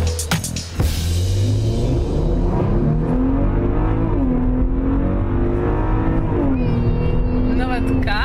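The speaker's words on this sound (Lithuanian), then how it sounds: "Nu, vat ką moka šitas automobilis, tai skleis gražų garsą." Maserati Levante SUV engine revving while driving, a steady loud drone with rising and falling pitch sweeps as the throttle changes, heard from inside over continuous road noise, with a short sharp burst at the start.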